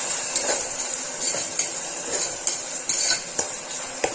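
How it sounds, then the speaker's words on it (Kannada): Chopped tomato frying in a pan for dal khichdi, a steady sizzle with repeated scraping and clinking of a spoon stirring against the pan, close up with no talking. "ಇದಕ್ಕೆ ಕಟ್ ಮಾಡಿ ಇಟ್ಕೊಂಡಿದ್ದು ಒಂದು ಟೊಮೆಟೊ ಹಾಕೊಳತ್ತೀನಿ. ಇದ್ರೊಳಗೆ ಫ್ರೈ ಮಾಡ್ಕೊಳ್ಳೋಣ."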